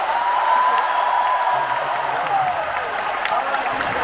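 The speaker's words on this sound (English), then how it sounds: "we're going to have to hear a loud applause" A large audience at the D23 Disney Parks & Experiences Showcase applauds and cheers with a steady, dense roar of clapping and shouting that fills the whole stretch without breaking.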